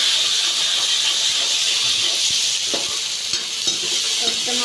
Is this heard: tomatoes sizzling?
yes